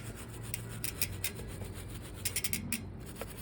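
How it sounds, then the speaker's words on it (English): Brush scrubbing a waxed bicycle chain and rear derailleur jockey wheels on the bike, a steady close rasping rub with short bristly bursts. "give the jockey wheels a scrub"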